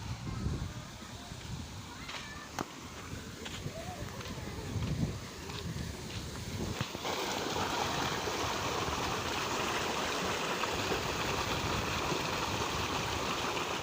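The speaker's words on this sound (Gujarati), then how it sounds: "આ બાજુ મિત્રો પાણી ચાલુ હોય" Water running in a stream, a continuous rushing wash that grows fuller and louder midway, with someone talking over the first half and occasional wind buffeting.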